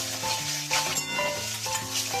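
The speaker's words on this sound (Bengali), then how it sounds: "এইভাবে আমি মাছগুলো ভেজে নিচ্ছি।" Fish fry in hot oil in a kadai, giving a steady sizzle with stirring and scraping underneath and a loud, close, unbroken crackle throughout.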